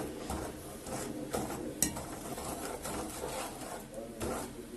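Melting sugar stirred in a pot for caramel: faint, repeated scraping strokes of a utensil against the pot, at a steady, unhurried rhythm with a small clink partway through.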